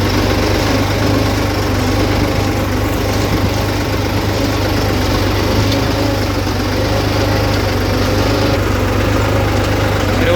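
New Holland 3630 tractor engine ploughing a field at a steady low setting, a continuous loud diesel drone with a deep hum and even rumble throughout, no voices.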